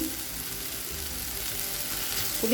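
Onions, with tomato and a little tamarind, sauté lightly in a pan for a chutney, giving a low, even sizzle throughout and a faint clink near the end, with no voices.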